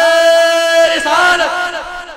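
A crowd shouts religious slogans together in unison at a shrine gathering in India, a loud sustained collective chant with strong voiced tones, then a ragged second burst of many voices.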